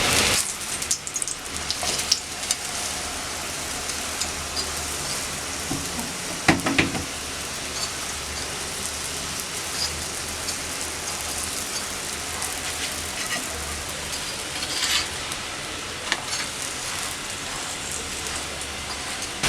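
A paratha brushed with ghee fries in a hot pan, crisping with a steady, close rain-like sizzle that runs throughout, with a few soft scrapes and pats from handling.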